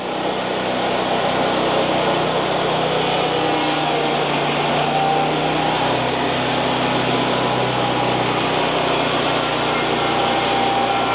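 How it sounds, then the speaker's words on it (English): A portable sawmill's engine drones loud and steady while its blade makes a horizontal cut through spruce for bevel siding, a continuous high-pitched whine with no pauses or voices. "lowering his mill back down 3/4 inch to do his horizontal cut"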